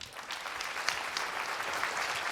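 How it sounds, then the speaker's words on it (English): A conference audience applauds after a keynote speech, a brief burst of even clapping heard at moderate distance and fairly faint. "Ladies and gentlemen, a great round of applause for Brian"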